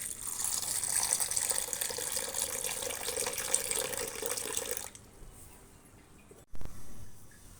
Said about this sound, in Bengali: ডালগুলো পানি দিয়ে ভিজিয়ে রাখবো।